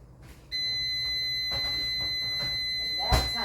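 Kitchen timer alarm going off while bacon cooks, a loud, steady, high-pitched electronic tone that starts abruptly and holds unbroken, with faint kitchen clatter underneath.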